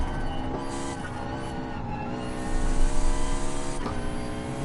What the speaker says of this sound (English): There's so much intake sound, so much induction sound from this car.